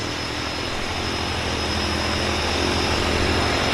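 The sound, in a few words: Beaver floatplane engine at Vancouver float base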